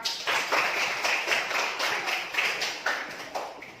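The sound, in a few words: students clapping for the teacher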